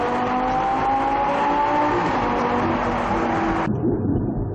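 A Lamborghini LP570-4 Performante supercar with its roof down roars loudly under acceleration, a sustained revving engine note climbing in pitch before cutting abruptly near the end, heard up close from inside the open cabin in January.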